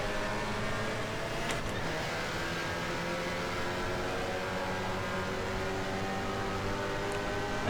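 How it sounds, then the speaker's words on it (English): A Spec Miata's raspy four-cylinder engine strains at high revs while racing in the rFactor 2 sim at Indianapolis, a steady, buzzing, harmonic-rich drone held at full throttle throughout. "It's got that raspy 4-cylinder being squeezed for its life."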